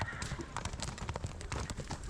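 Horses' hooves clip-clop in a quick, busy patter at the Kara-Balta livestock market, a steady run of hoof knocks with voices faintly in the background.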